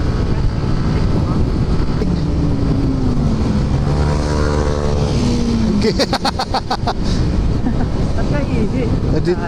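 A 350 ATV engine runs steadily nearby with wind buffeting the microphone, and its pitch rises and falls as it revs; people talk over it.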